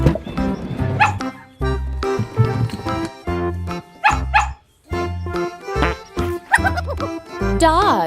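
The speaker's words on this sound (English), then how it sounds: "Dog." A domestic farm dog barks in a rapid run of loud, close yips and woofs, with short gaps and a few whimpering, rising notes near the end.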